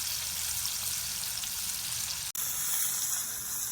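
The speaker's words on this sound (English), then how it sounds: "Right now, I'm going to throw my steak on the grill with the onions and jalapenos. And you're about to hear a sizzle." New York strip steak sizzling in a cast iron skillet with onions and jalapenos, a steady loud frying hiss throughout, briefly cut by a momentary dropout before continuing.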